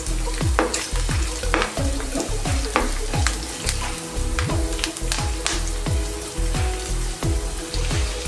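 Grated coconut stir-fried in hot coconut oil with ginger, garlic, curry leaves and green chillies for a prawn roast, giving a steady loud sizzle broken by regular clacks and scrapes of a spoon against the pan.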